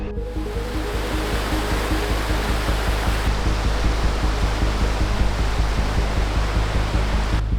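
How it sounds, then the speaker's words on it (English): Alaskan creek rushing past a massive log jam beneath a leaning bridge, a steady, loud broadband roar of flowing water that holds constant throughout, with no voices. "The creek here has created a massive log jam that's pretty much diverted the creek under the bridge"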